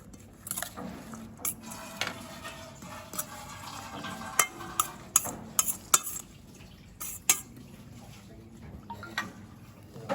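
Ingredients being mixed together in a bowl for a Maharashtrian dish, with irregular clinks and scrapes of a utensil against the bowl and soft squishy stirring, moderately close with no talk.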